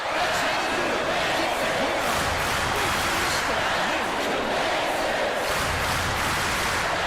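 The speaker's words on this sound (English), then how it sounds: "From deep, this crowd couldn't be any happier" A large arena crowd in a college basketball video game roars continuously and loudly, a dense wash of cheering that never lets up, with a commentator talking over it.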